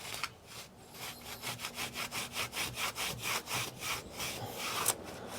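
Coosa composite board being cut by hand with a saw to make stringers for a 1979 Glastron GT-150 boat: a steady back-and-forth rasp of about a dozen even strokes, close and clear, with no talking.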